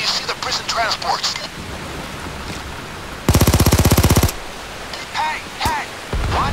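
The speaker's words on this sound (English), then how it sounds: "Watch where you're shooting!" A loud burst of rapid automatic gunfire lasts about a second during a PayDay 2 video game mission, with faint voices and scattered game noise before and after.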